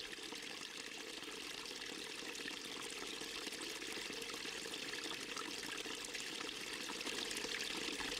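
Meltwater streams across the surface of a glacier in a steady, continuous rushing wash, quiet and even throughout with no voices.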